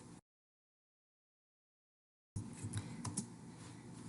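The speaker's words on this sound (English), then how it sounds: "let's go ahead and type our address" Typing on a computer keyboard comes as a quick run of light key clicks at close range, heard after a stretch of silence, with no speech.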